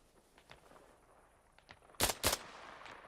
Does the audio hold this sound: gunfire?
yes